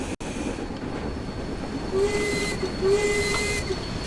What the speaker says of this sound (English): Apply a small amount of brake and bring the train to a stop at the station.